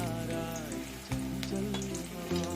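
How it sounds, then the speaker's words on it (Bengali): Cabbage fritters frying in hot oil give off a steady, close sizzle with a crackling, rain-like texture, constant throughout with a few louder pops. "সব ভেজে তোমাদেরকে দেখাচ্ছি।"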